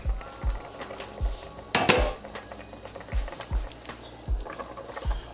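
A metal lid is lifted off a pot of smoked neck bones simmering for pinto beans, giving one sharp clank amid lighter metallic taps and soft, regular low knocks, close and clear.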